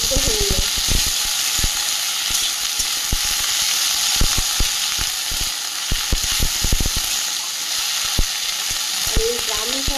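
Cut okra and tender brahmi greens frying in a hot pan, giving a loud, steady sizzle with crackling bursts and a few stirring knocks throughout.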